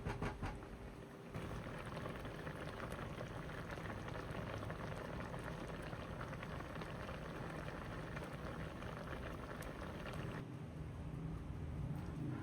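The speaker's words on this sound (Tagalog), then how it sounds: "So, simmer lang natin saglit." Palitaw in coconut milk simmering in a pot, giving a steady, even bubbling hiss that runs unbroken throughout at moderate level with no voices.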